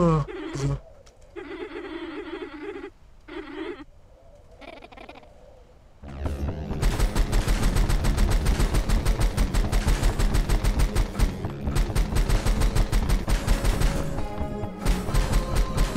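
Rapid, dense gunfire from an AK in the Rusted Moss video game rattles loudly and almost continuously for about ten seconds, following quieter chirping, tonal game sounds.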